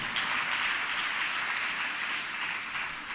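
A church congregation claps together in a steady, dense patter that holds evenly for a few seconds, moderately loud and heard on its own.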